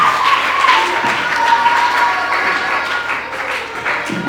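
A theatre audience applauds a performer in a continuous wash of clapping, fairly loud and steady, with a faint whistle-like tone drifting through the crowd noise.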